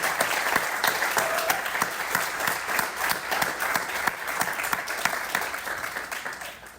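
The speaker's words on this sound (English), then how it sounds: "I think we should give you another round of applause and let you sign some books." Audience applause for an author at a bookstore reading and signing event, a steady dense patter of many hands clapping close by, running throughout and slowly thinning toward the end.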